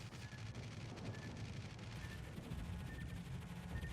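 Rapid, continuous anti-aircraft gunfire from a battleship in the World of Warships naval game, shooting at torpedo bombers, a dense rattling barrage of shots with low rumbling booms underneath, fairly faint and steady throughout.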